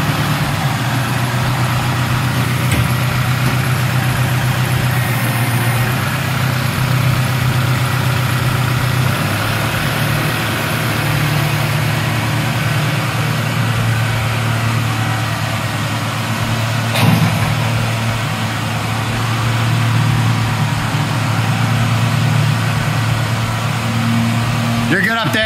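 Steady low engine drone of a tractor running continuously while it pulls a wrecked Ford Mustang GT500 out, with a brief clank partway through and occasional voices over the rumble.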